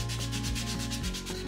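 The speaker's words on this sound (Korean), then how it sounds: "똑같이 티라노사우루스도 날카로운 면을 쇠줄과 사포로 갈아내 주겠습니다." Rapid, steady rasping strokes of a metal file and sandpaper smoothing the sharp edges of a carved wooden tyrannosaurus toy, close and continuous over background music.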